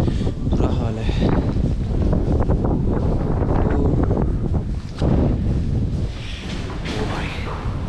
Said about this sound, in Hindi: बहुत ठंडी हवा चल रही है लगातार